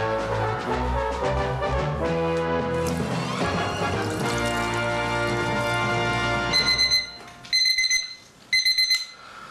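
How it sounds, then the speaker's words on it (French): An alarm clock rings after a stretch of music, sounding as three short bursts of bright, rapid metallic ringing separated by brief pauses. "On a bidouillé le réveil."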